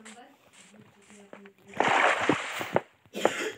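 A Minecraft character plunges into water, giving a burst of splashing and sloshing after a few quiet taps, followed by a second short splash near the end.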